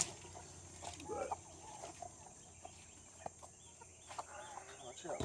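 Chickens in a Texas farm coop give scattered soft clucks and short calls over a quiet hum, fairly faint and close, with light handling noises between them.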